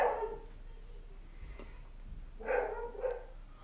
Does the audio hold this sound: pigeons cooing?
no